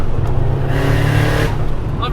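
A turbocharged Nissan Silvia S15 Spec R engine roars steadily up close, building power with a deep throbbing growl while a voice talks over it.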